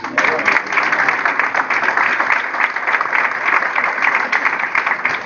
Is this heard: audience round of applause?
yes